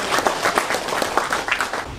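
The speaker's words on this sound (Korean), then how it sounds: "박수로 환영해 주시기 바랍니다." An audience at the 16th Nogeun-ri Peace Prize award ceremony claps to welcome a guest, a dense, fairly loud burst of many hands clapping.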